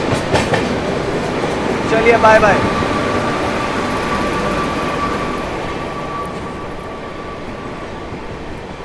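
Ala Hazrat Express train running at full speed on the rails, a steady loud rumble with a brief clattering burst early on, fading slightly toward the end, with someone speaking briefly over it.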